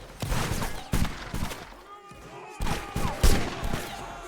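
Rifle gunfire in a 95th Rifles line-battle game, ragged volleys and scattered shots crackling in repeated bursts, loud and dense with a brief lull midway and no clear talking.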